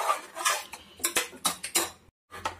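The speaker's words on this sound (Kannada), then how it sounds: "ಇವಾಗ ನೀಟಾಗಿ ಮಿಕ್ಸ್ ಮಾಡ್ಕೊಬಿಡೋಣ" A metal spoon stirring lentil dal with fenugreek leaves in a pot, close and fairly loud, with a quick series of scraping clinks against the metal, a short pause, then more stirring, without any talking.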